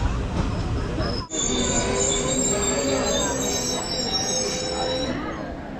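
A Jan Shatabdi Express passenger train running at speed: a steady, loud rolling rumble of wheels on track with sustained high-pitched metallic wheel squeal over it, heard close by from on board throughout.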